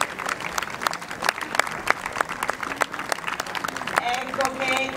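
Scattered audience applause at a traditional carriage driving competition in Venaria, with sparse, uneven claps from a modest crowd that thin out toward the end as a voice begins speaking.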